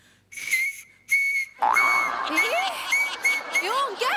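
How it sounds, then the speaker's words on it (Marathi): Shrill whistling blown across a pen cap comes in short bursts, then longer warbling and sliding tones, close and loud, with voices in the background. "हे पेनाचं टोपण का ठेवलंयस? ते हे शिट्टी वाजवता येते ना अशी."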